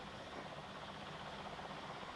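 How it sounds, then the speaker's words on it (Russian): Helicopter at the Chernobyl nuclear plant in August 1986, its rotor and engine roar steady, loud and continuous throughout with no pauses. "эти вертолеты, вот 68-й борт заправляет как раз сейчас"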